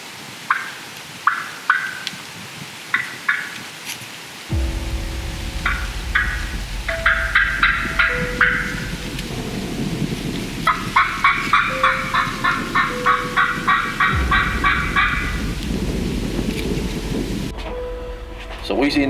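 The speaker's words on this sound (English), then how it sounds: "the one across the road gobbled several times" Wild turkey gobbling during the Georgia spring turkey season opener, several loud bursts from nearby, repeated in rhythmic runs over rumbling thunder and steady rain, with no talking.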